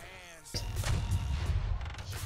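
Heavy booming broadside cannon and mortar fire from pirate ships in the game Tradelands, a sudden loud blast setting off a continuous rumbling barrage of shots that holds steady throughout.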